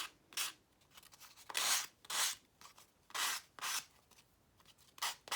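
A nail file block rasps along the edges of a craft piece with pressed flowers in short, repeated strokes, a close, quiet scratching with brief pauses between passes.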